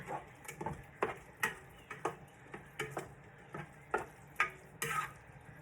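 Reindeer chili being stirred in a pot, a spoon scraping and clinking in steady rhythmic strokes about twice a second, close and fairly quiet with no talking.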